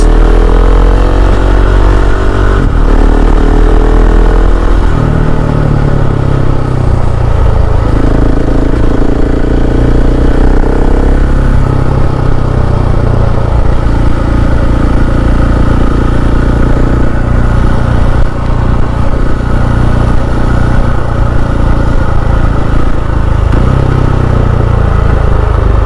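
Up close, a KTM 690 SMC R supermoto works through slow gymkhana-style drills, the engine loud and continuous with shifting revs and occasional throttle blips over heavy low rumble.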